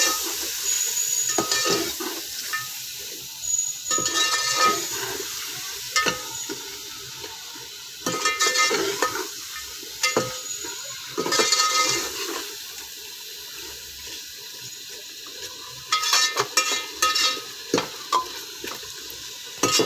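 Mutton pieces and spices sizzling and frying in a pot while being stirred, with intermittent scraping strokes and bursts of crackle over a steady hiss, close and moderately loud, no voices.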